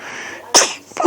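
A single sharp sneeze bursts out close by, preceded by a soft breathy lead-in and followed by a short vocal sound.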